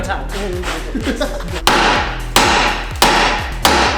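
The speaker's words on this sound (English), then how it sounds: "Hammer time." Four loud, sharp metallic hammer blows on the inner CV joint of a turbo Honda Civic drive shaft land about two-thirds of a second apart, following quieter knocking and some background voices.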